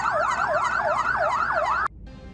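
Ambulance siren wailing loudly and close on a road between Padang Panjang and Bukit Tinggi, a steady rising-and-falling warble that cuts off abruptly near the end, leaving faint traffic noise.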